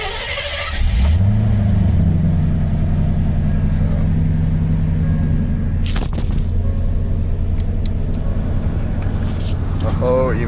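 A 1987 Ford Crown Victoria engine idles steadily with a low, even rumble throughout, after a brief start at the beginning and a short clunk midway.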